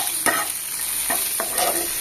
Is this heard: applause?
no